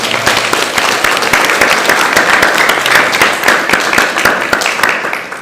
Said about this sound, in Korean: 우리 옆에 있는 분들 박수로 환영합니다.